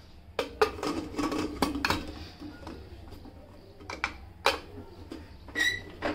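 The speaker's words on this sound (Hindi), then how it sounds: "तो मैं कुकर का ढक्कन लगाती हूँ।" A pressure cooker lid is fitted on over arbi gravy in a home kitchen, giving a run of metallic clanks and clinks of varying loudness with short pauses, close by and without talk.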